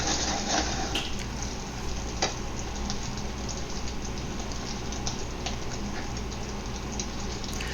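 Eggs frying and being turned over in a pan for a bitter melon and scrambled egg stir fry with garlic sauce, giving a steady sizzle with a few soft scraping clicks from the utensil, close and continuous, with no talking.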